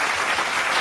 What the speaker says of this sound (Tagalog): Palakpakan.